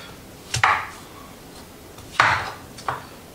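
A knife slicing carrots into thin French fry slivers on a cutting board, three or four sharp close chops spaced unevenly, each with a short crisp crunch, no talking.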